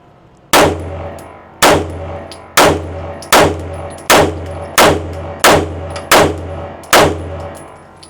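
Nine loud, sharp gunshots from a Kimber 2K11 pistol, fired one after another at a steady pace about every three-quarters of a second, each crack ringing out with a brief echo tail.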